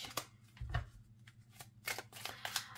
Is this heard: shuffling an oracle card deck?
yes